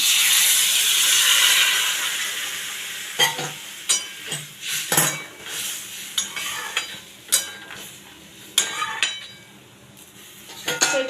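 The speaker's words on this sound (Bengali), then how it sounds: "দিলাম একটু সামান্য গরম জল আমি এবার দিয়ে দেবো তরকারির মধ্যে" Hot water poured into a fish curry with cauliflower and potato sets off a strong hiss that fades over the first few seconds. Clanking pot-and-spoon stirring strokes follow in an irregular series, close by and with no talking.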